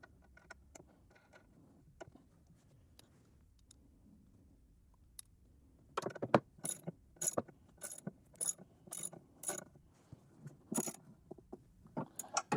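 Ratcheting while tightening a part during a deck belt change on a John Deere Z335E zero-turn mower, quiet faint clicks at first, then a run of sharp, close, rhythmic ratchet clicks.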